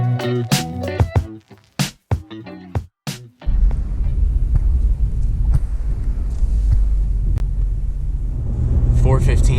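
A car pulling onto the highway, a loud steady low engine and road rumble with wind noise, following a few seconds of close, bumpy handling sounds.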